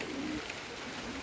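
Pigeons of a large breed coo softly on a veranda during rain, a low brief murmuring under steady background noise.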